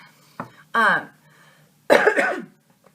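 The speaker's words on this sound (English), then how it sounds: "oh my God, I cough like an old man." A person coughs a few times in short, rough bursts, close and fairly loud, with brief pauses between.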